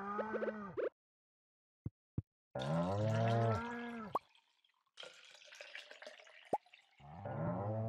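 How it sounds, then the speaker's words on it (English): Cows mooing in the farming video game Stardew Valley: several drawn-out, loud moos separated by silent gaps, with a couple of short watery drip sounds in between. "Yep, happy cows from Stardew Valley."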